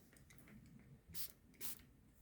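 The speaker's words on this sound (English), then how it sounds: "now I'm going to get the water spray" Two short hissing bursts of a spray bottle misting, quiet and close, with faint rustling around them.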